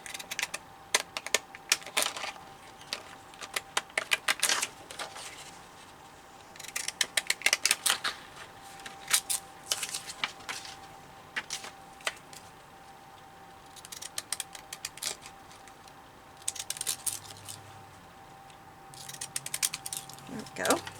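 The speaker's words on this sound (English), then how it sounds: "get my deco scissors" Decorative deco scissors snip through paper in close, repeated bursts of crisp clicking cuts, pausing now and then, with a faint steady hum behind.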